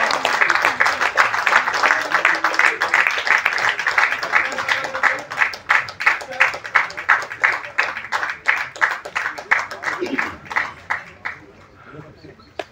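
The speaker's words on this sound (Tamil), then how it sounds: "எல்லாரும் பலத்த கரகோஷத்தை கொடுத்துடலாமே" A crowd applauds at a film's 25th-day success celebration as a production team comes up on stage, with a dense burst of clapping that thins into slower, distinct claps and fades out near the end.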